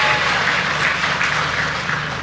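Large audience applause at a mass subsidized-mortgage signing ceremony, a dense, steady wash of clapping across the whole stretch with no voices on top.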